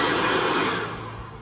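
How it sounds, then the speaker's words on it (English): A mini electric cordless leaf blower and vacuum with a collection bag runs close by, giving a loud steady whir that eases off slightly toward the end. "You can see when I turn it on, it gets full, so it's pushing the air through and collecting everything in the little bag."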